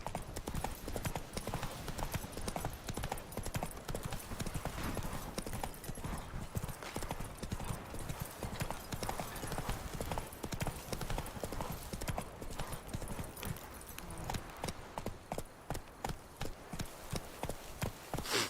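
Horse hooves galloping in The Witcher 3 video game, a fast, steady clip-clop rhythm that runs continuously and loudly throughout, with faint game ambience underneath.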